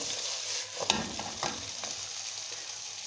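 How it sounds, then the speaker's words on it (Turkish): Diced potatoes frying in a pan for a breakfast dish, a soft continuous sizzle with a few scraping stirs of a utensil, fairly faint and close, no talking. "Bunlar güzelce kavruluyor şu anda."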